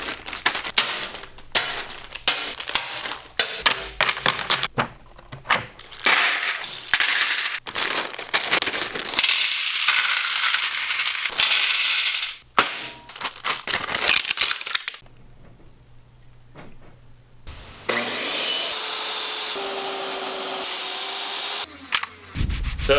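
Plastic Tool Grid tiles being laid out inside a new toolbox, giving a run of sharp clicks, snaps and rattling knocks at close range, with bursts of clattering and brief quieter pauses, no talking.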